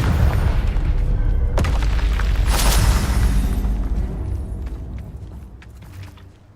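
Bombarda and Confringo spell blasts from Hogwarts Legacy, a loud booming explosion with a sharp burst near 1.5 seconds and another crack near 3 seconds, the rumbling roar fading away over the last few seconds.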